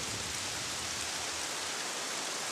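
Steady rain pouring in a film scene, a dense, even hiss of downpour with no breaks and no voices, filling the whole moment.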